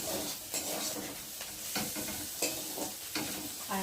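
Ground spices fry in oil while a spatula stirs them around a pan, a close sizzle punctuated by repeated rhythmic scraping strokes every half second or so.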